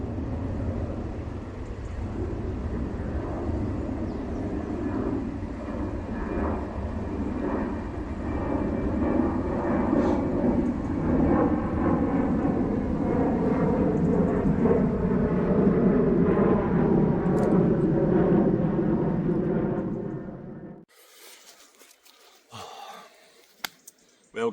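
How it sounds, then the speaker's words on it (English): A fixed-wing airplane passes overhead beside a small river in Scotland, a steady broad engine drone lasting about twenty seconds before cutting off, followed by faint quiet water and ambient sounds. "Oh, another plane."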